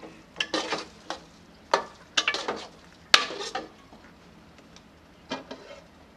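Semolina milk halwa is stirred in a pot, giving irregular scraping clinks of a spoon against metal with short gaps between strokes, close and fairly loud, with no talk over it.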